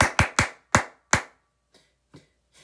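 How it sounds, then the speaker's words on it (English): Hands clapping in a children's song about a ballet dancer: five sharp, close claps in an uneven rhythm, then a few faint, softer taps trailing off into quiet. "Clap your hands for Chen Wu."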